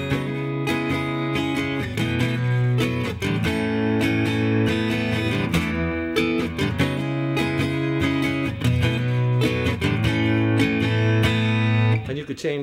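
Acoustic guitar strumming hammer-on chord shapes at speed, producing a busy melodic pattern of rhythmic strums with ringing notes that runs continuously and clearly, played alone.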